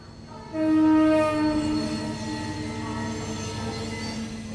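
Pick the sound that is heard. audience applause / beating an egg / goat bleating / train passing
train passing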